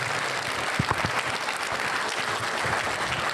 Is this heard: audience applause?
yes